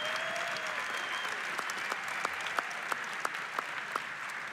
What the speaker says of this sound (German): Hier Applaus bitte für beide Kämpfer